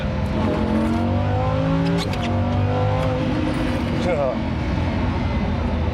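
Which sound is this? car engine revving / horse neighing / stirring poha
car engine revving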